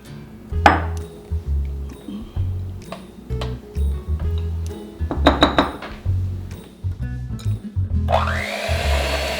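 An electric mixer beats cake batter in a home kitchen, a low motor hum running in repeated short stretches with brief pauses and light clinks against the bowl, close and moderately loud.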